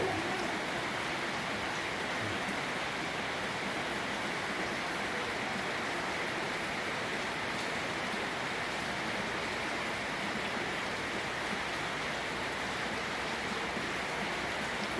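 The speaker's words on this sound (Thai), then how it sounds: "เก็บบรรยากาศฝนตกในเมืองเนาะพี่น้องเนาะ" Steady rain falls over a city in the morning, a constant even hiss of downpour with no breaks, moderately quiet and wide.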